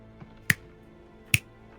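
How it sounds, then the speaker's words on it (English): Two crisp finger snaps ring out close and clear in a quiet room, roughly a second apart, each a sharp isolated crack, the second slightly louder. "Oh, that's a good snap."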